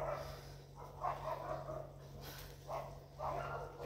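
A dog barks in a few scattered bursts at a distance, fairly faint over a steady electrical hum and room noise, with no voices.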